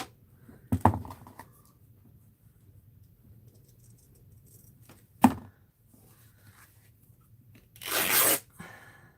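Paper being torn by hand for an art journal, with a short rip near the start, a sharp snap midway and a longer, louder tear near the end, separated by quiet gaps.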